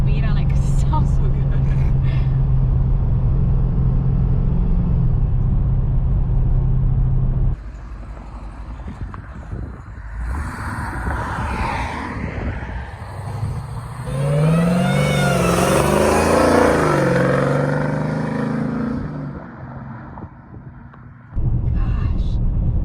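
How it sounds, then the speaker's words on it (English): A supercharged Dodge Hellcat engine pulls hard from a steady deep drone into a loud rising rev with supercharger whine, heard from inside the car, with someone talking over it. "I just want it for the dang blower noises"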